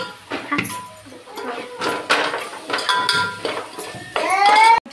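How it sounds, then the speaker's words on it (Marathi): Masala frying in a pan for a party meal, with repeated clanks and scrapes of a metal spoon against the pan, loud and close, some ringing metallic tones near the end. "बघा हे अशा मसाला तळत आहे आम्ही"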